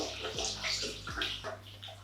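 Hot tap water runs into a bathroom sink, a steady close splashing stream with a few low thumps and knocks over it, no speech.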